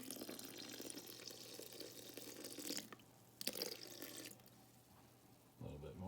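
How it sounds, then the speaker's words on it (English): Warm water pours steadily from a small cup into a sourdough starter, a continuous splashing trickle that breaks off briefly near the end before a closer burst of liquid sound. "And we're gonna add some warm water."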